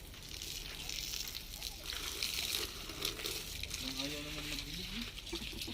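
Garden plants, including a calamansi tree, being watered in a backyard in Davao, a continuous hissing splash of water running steadily throughout, with people talking quietly in the background.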